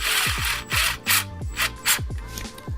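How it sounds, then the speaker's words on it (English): Metal tool work on an intercooler pipe clamp of an Audi S4/S5, a close series of scraping, rasping strokes with ringing tones, repeated about six times in an uneven rhythm. "you have another clamp here that's connected to the intercooler. So we need to take that one out as well."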